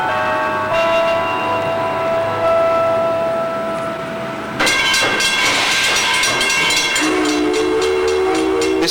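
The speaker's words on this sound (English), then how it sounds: "This is the New Hope and Ivyland Railroad, and it runs between New Hope and Lahaska" A New Hope and Ivyland Railroad train passes close by, its whistle sounding in sustained chord-like blasts over a steady, heavy rumble that swells partway through.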